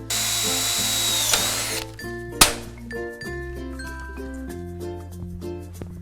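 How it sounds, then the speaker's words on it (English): A power drill whines loudly for about two seconds as it bores rivet holes in an Absco steel shed panel on an aviary or chicken coop front wall. A sharp clink follows, then steady tonal background sound. "we'll drill out the other side."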